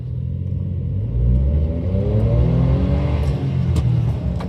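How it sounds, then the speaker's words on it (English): A car engine rumbles low and then climbs in pitch as it accelerates away from a traffic light, the revving rising steadily up close. "once I take off from the light here, you'll be able to get a better idea as to how it drives"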